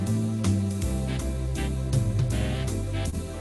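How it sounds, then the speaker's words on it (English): An electronic keyboard plays a looping drum-and-bass accompaniment with steady kick, snare and cymbal hits under sustained chords. "drum variation is going to change the drummer of the band"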